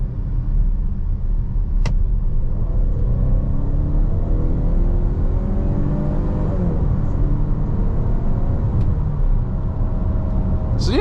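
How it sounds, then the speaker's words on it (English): A 2023 Volvo XC60 B5 accelerates hard at full throttle from about 25 mph, a steady loud cabin rumble with rising engine tones sweeping upward over road noise, with no talking. "just get it up to 25 and mash the throttle and see what happens"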